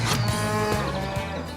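A cow on a dairy farm lows in one long, loud, continuous moo that fills the whole stretch, close by and with no talk over it.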